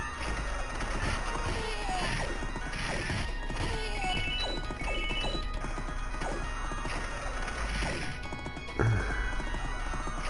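Hoofbeats of a horse in a video game clatter in a steady gallop as the mount turns, with occasional whinnies and a crashing impact near the end, loud and continuous with no talk over it.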